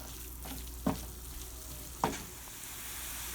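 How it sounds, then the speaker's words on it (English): Taco filling with seasonings and extra vegetables simmering in a pan, a soft continuous sizzle under two sharp utensil clacks against the pan, close and quiet with no talking. "So we just continue to let that simmer so the seasonings go all in"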